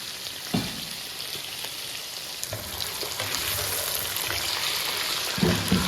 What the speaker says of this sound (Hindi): उसमें मैंने अब आलू फ्राई करने हैं